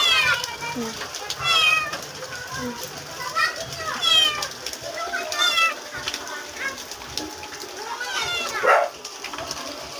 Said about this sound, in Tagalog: Ay, pusa nga dito. Pusa ito eh.